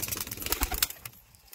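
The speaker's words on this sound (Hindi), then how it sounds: "ये खैरा कबूतर है, नफ्ता खैरा" Khaira pigeons being handled at a sale: quick bursts of wing flapping and rustling feathers up close, loud for under a second, then fading to quieter scattered flutters.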